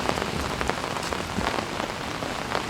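Heavy rain pounds steadily on a tarp shelter at an overnight camp near a beach, a dense, close, continuous patter with no talking.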